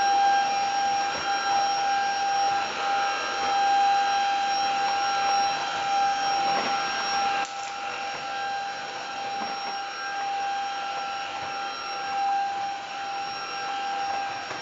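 A steady motorized whine with a sustained high tone drones on without pause, like a vacuum cleaner running nearby, dropping slightly in loudness midway.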